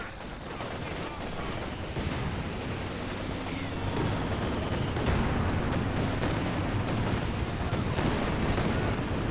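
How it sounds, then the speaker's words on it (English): Rocket artillery and explosions from the Company of Heroes 2 strategy game, a dense continuous barrage of blasts, crackling gunfire and booming impacts, loud and sustained with no pauses. "this rocket artillery is flying in, inflicting so much bleed onto Jack the Kimchi"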